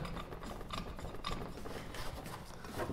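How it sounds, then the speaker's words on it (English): Clutch puller threaded into a Ski-Doo TRA snowmobile clutch, a faint, steady metallic rubbing and rasping with light ratchet-like clicks. "We're going to take our clutch puller, insert it, get enough of the thread into there"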